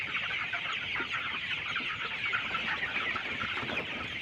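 Chickens cluck steadily in a dense, continuous flock chorus close by during feeding on a poultry farm, with no talk.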